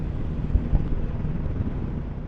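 Strong wind by Lake Coniston buffets the microphone of a motorcyclist riding a Yamaha MT10SP, making a steady, close, low rumbling roar with no talking.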